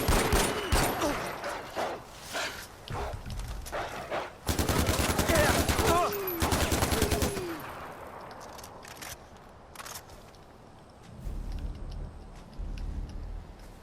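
Pistol fire from the video game Far Cry 4, a run of loud sharp shots in quick bursts with gameplay sounds between them, some clusters dense like rapid fusillades, then fading into quieter ambience.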